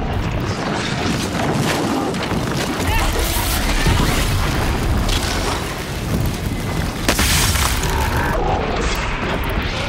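Fire sets a machine ablaze in a snowy Horizon Zero Dawn Frozen Wilds battle, with a dense, loud roar of booming blasts and crackling impacts filling the whole stretch and a player's voice speaking over it.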